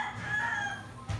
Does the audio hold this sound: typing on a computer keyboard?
no